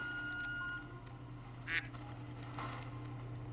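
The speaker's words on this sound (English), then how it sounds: "Boba hit us up with the duck sound effect." A single brief duck quack from the video game Voices of the Void, short and fairly faint, sitting over a steady electronic hum with a softer second burst a moment later.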